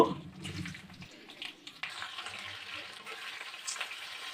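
Pointed gourd pieces tipped into hot oil tempered with black cumin seeds, with a burst of crackling and rustling that settles into a steady, close frying sizzle.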